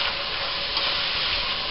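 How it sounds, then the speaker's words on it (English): Chopped onion sizzles in hot oil and bacon fat with browned bits, a steady, dense, close hiss that holds evenly for the whole moment. "I'm going to saute this for about 5 minutes until it's soft."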